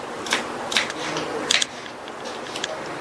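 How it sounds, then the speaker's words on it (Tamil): A knife slices cucumbers into round pieces on a board, producing sharp, close tapping clicks at an irregular pace over a quiet background. "இந்த நம்ம எடுத்து வச்ச 2 வெள்ளரிக்காயும் இந்த மாதிரி ரவுண்ட் ரவுண்டா கட் பண்ணிக்கலாம்."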